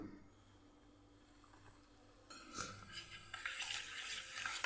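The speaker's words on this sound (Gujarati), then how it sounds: "એની ઉપર થોડું પાણી ઉમેરશું" Water is poured into semolina batter in a soft, splashy stream that begins partway through after a quiet stretch, close by and with no voices.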